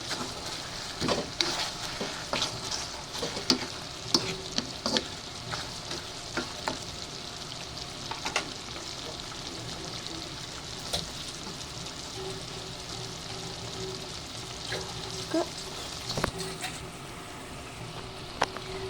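Chicken and egg fry together in a pan while being stirred, a steady close sizzle broken by repeated spatula scrapes and clacks against the pan, with no voices over it.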